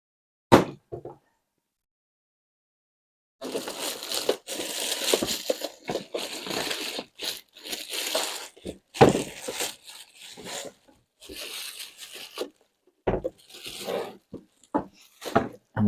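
Protective plastic film is peeled and crinkled off a new Tristar SZ-4187 robot vacuum cleaner, giving bursts of close crackling and rustling with short pauses between, after a brief knock and a quiet gap at the start.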